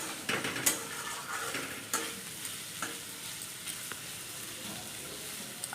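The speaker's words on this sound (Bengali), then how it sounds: "আস্তে আস্তে করে ভাজা করে নিতে হবে" Finely chopped potato, beetroot and carrot frying gently for chire pulao: a continuous soft sizzle broken by scraping stirs and light clinks of a spatula against the pan.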